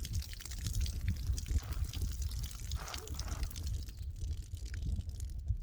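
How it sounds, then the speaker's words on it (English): A leaking garden hose in a vegetable garden sprays and trickles water in a steady, close, hissing gush with no pauses. "My hose is leaking."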